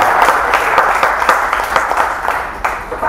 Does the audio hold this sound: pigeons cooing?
no